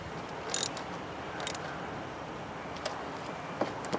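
A ratchet snugging down the thermostat housing bolts on a Mercedes M103 engine, faint mechanical clicks in a few short bursts over a low background hum.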